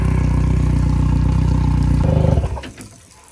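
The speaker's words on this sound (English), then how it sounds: "So let's start her up, let's run her up" Boat outboard engine running on a flushing setup, a steady loud mid-pitched drone with rhythmic clatter that holds for about two seconds, then cuts off and fades into quiet.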